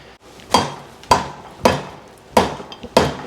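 Five sharp metallic hammer blows land on a stuck Honda CX500 engine at irregular intervals, each ringing briefly before fading, close and loud.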